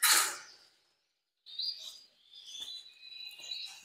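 Agate canaries chirp in short, high, bright calls and trills, close and fairly quiet, with a brief silent pause after an opening rustle before the chirping resumes.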